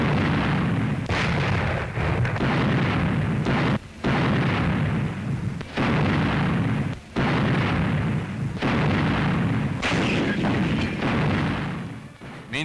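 British 8th Army field guns firing in 1943 wartime newsreel footage, a sustained run of loud, heavy booming blasts that roll into one another with only brief gaps, no voices over them.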